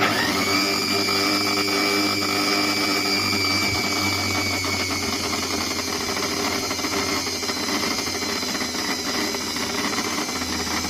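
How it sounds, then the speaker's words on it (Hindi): Electric mixer grinder motor running continuously at high speed, a steady loud whine with strong harmonic hum that holds evenly throughout with no pauses. "और मिक्सर को चालू करेंगे।"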